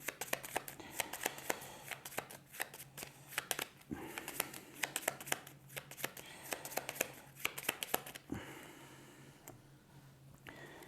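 A deck of cards being shuffled by hand: repeated quick riffling bursts and crisp flutters, close and clear, with a brief pause before a final shuffle.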